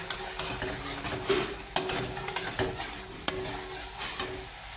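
Spices with Kashmiri chili powder and salt being stirred and sautéed in a pan for a raw papaya kofta curry, a continuous sizzle broken by several sharp spoon scrapes against the pan at irregular intervals.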